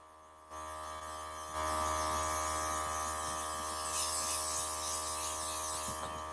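An airbrush sprays makeup with a steady hissing, buzzing rush and a low mechanical hum beneath it. The sound starts with a soft click, swells louder once the trigger is pulled back, and holds close and continuous without any talk.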